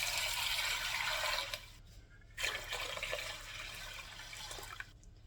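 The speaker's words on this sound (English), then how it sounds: "And we're going to add some water." Water poured from a tap or pitcher into a pot of lentils, a steady splashing gush that briefly stops and then resumes more softly, with no talking.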